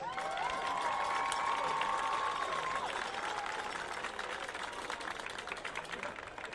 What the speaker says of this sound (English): Let's give our seniors a big round of applause.